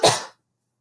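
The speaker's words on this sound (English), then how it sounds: "Excuse me, I have to cough, friends." A single short, loud cough from an adult teaching a first-grade math lesson, sharp at the onset and fading within about a third of a second, heard alone with no other sound.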